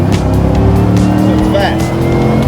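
A loud truck engine, from a Roadster Shop Legend Series Chevrolet K5 Blazer, drones steadily throughout under hard acceleration, a constant heavy rumble with no clear pauses.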